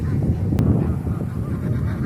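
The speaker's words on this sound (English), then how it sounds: "certainly sound like geese" A flock of geese honks loudly and continuously at close range, overlapping calls filling the moment with no talking over them.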